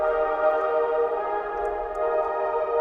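A smooth, sustained synth pad from the Angel of Paradise preset in Dune 3, low-cut with Pro-Q 3, holds a warm, airy chord, steady and even throughout with no breaks or percussion.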